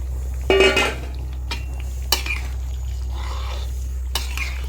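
Fried fish head dropped into a simmering fish curry pot for a Bengali muri ghonto, giving a clattering pot-and-utensil knock followed by a few lighter scrapes and taps over a steady low burner hum.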